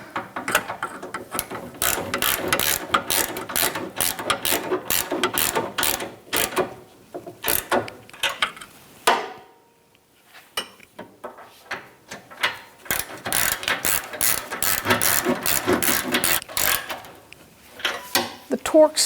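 Repeated clicking of a 13mm socket ratchet snugging the rear upper shock mount bolts on a 1997-2006 Jeep Wrangler, rapid bursts of ratcheting close by, with a short pause midway before the clicking resumes.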